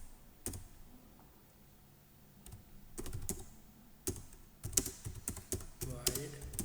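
Typing on a computer keyboard while writing a Java Selenium script, with sparse clicks early and then denser bursts of keystrokes, close and fairly quiet, in a quiet room.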